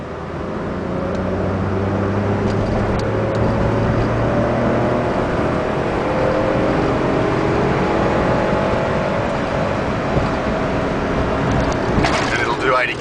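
A tiny Japanese car holds third gear around a corner at about 30 km/h, its small engine giving a steady, close, continuous drone with a faint pitch shift as it pulls through the bend.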